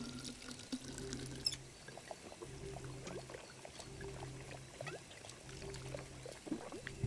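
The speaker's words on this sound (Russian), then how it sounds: "Так, наливаем." Liquid is poured into a vessel in the Tails of Iron video game, a faint continuous trickling stream over several seconds amid soft low background sound, with no talk.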